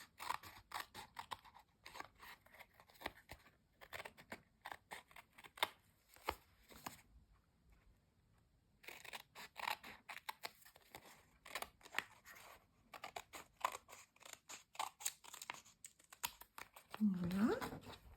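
Scissors snip and trim packaging card into junk journal tags, a close series of short crisp cuts with brief pauses, one quiet gap midway.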